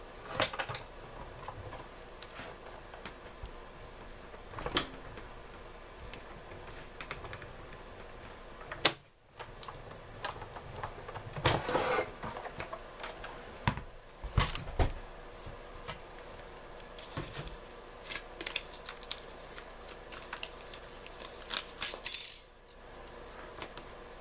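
Fun Foam layered with cardstock on a cutting plate is cranked through a manual die-cutting machine, giving soft rolling grinds, plastic clicks and clunks at close range with no talking.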